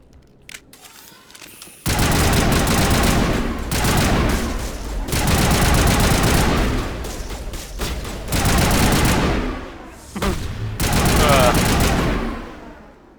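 Gunfire in the Mass Effect video game: sustained bursts of rapid automatic fire, loud and dense, separated by brief pauses, with occasional voices in the mix.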